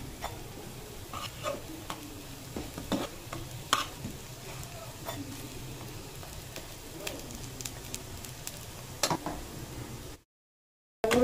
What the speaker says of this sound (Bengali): এইভাবে লাল লাল করে ভেজে নেব।